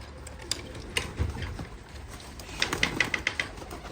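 Pigeons in a shop cooing softly up close, low throaty calls mixed with sharp ticking taps and small clicks that cluster near the end, with no speech.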